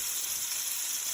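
Meatballs frying in a pan over fairly high heat, a steady dense sizzle close by and unbroken, with no talking.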